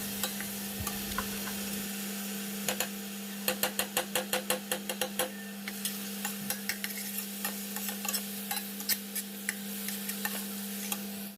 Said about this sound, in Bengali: তারপর পেঁয়াজগুলো যখন লাল লাল করে একটু ভাজা হয়ে যাবে, তখন ওই আদা রসুনের পেস্টটা এতে দিয়ে দিলাম।